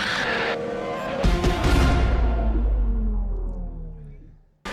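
F1 racing cars colliding on the Azerbaijan circuit in a racing video game, a sharp metallic impact followed by a roaring engine and scraping that fades away over several seconds, with no talk.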